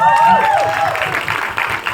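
Audience applause and cheering for actor Chaitanya Chaudhary at the Sukhee trailer launch, a broad wash of clapping with a tonal whoosh sweep early and a voice talking over it.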